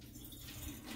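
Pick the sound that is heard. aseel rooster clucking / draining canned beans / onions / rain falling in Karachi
draining canned beans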